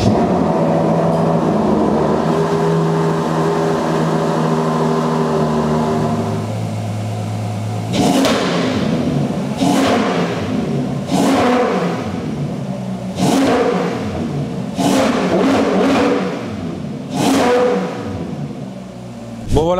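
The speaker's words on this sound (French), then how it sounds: "Bon voilà pour le premier V12 Atmo de chez Ferrari." A naturally aspirated Ferrari V12 idles with a steady drone, then barks through five or six sharp, loud revs in quick succession, each rising and falling back, heard close up with no talk.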